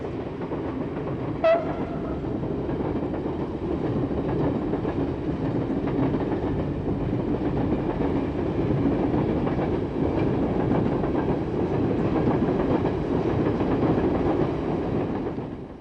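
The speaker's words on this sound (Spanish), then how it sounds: "Este tren lleva algunos de los modernos vagones tipo Gran Confort." Italian express train, a fast locomotive hauling modern Gran Confort carriages, rumbling past loud and steady for the whole stretch, with a brief horn-like tone near the start and constant wheel and rail roar.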